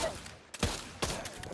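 Gunfire from Pavlov VR, with two or three sharp, close shots landing about half a second apart, each followed by a short ringing tail.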